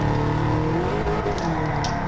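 A Dodge Viper GTS from 2013 in a racing video game, its engine revving hard near the red line in a steady, loud, continuous roar.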